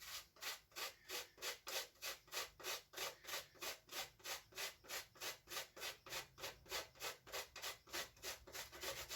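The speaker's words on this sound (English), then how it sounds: "just grate some pieces on top." A grater rasps food onto a dish in about two dozen even back-and-forth strokes, a close, rhythmic scraping that continues steadily throughout with no talking.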